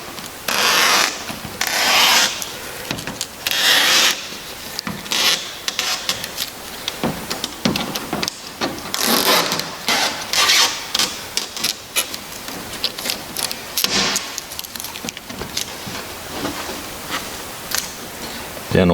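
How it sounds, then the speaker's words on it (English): Backing is peeled off adhesive tape on an Aerolite 103 aircraft nose cone in close, repeated raspy tearing and crinkling strokes over about nineteen seconds, with short pauses. "we can start removing the backing on adhesive tape"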